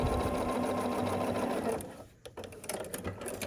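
A sewing machine stitches diagonally across squares of a scrappy sampler quilt block, humming steadily and close for nearly two seconds before stopping, followed by quieter handling of fabric.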